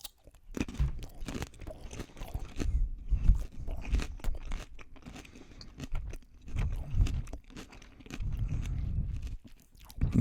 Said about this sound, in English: This is your average sized small cucumber, and here's how you eat it.